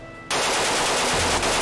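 Sustained automatic gunfire in a multiplayer video game erupts suddenly after a brief quiet moment, a dense, loud, rapid stream of shots with no pauses and no talking.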